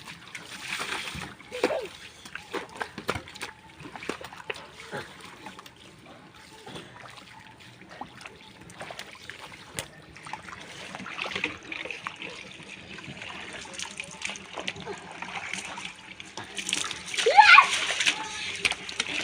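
Water splashes and trickles in irregular bursts during a home bath in Gazipur, likely poured from a bucket, with children's voices chattering throughout and a louder splash near the end.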